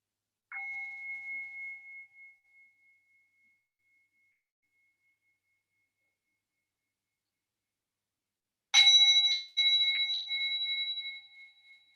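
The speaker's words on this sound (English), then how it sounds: "Take your time, I'm just getting a little bell ring." A small bell rings twice during a quiet yoga class. Each struck tone is clear and rings out with a long fading resonance, and the strikes are separated by several seconds of silence.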